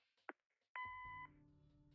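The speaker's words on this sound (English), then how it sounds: "Leave a message after the beep." A single answering-machine beep in the adventure game Kathy Rain: one short, clean electronic tone lasting about half a second, followed by a low, quiet line hum.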